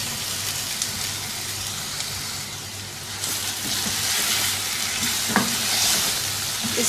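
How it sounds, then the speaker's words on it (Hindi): Chicken marinated in garlic and ginger paste sizzles and fries in a karahi, a continuous close crackle with occasional stirring scrapes and no talking. "इस चिकन को अब 3-4 मिनट अच्छी तरह से भून देंगे।"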